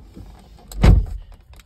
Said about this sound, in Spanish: Cerramos la puerta